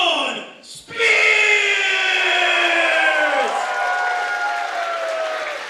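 A wrestling arena crowd erupts into loud, sustained cheering and applause after a brief lull, with screams and whistles rising over the roar as fans stand for the World Series Wrestling championship match in Melbourne.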